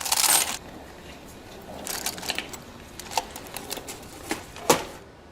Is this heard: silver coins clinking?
yes